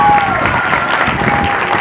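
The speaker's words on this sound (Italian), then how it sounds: "un altro applauso per Irene." Applause at an outdoor sports award ceremony, a short burst of loud crowd clapping with a voice through a speaker and background chatter.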